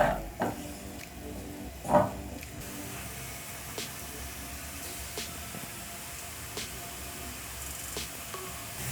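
Roughly chopped white onions fry in oil in a pan with a faint, steady sizzle, while a few soft knocks and scrapes of stirring stand out near the start and recur sparsely.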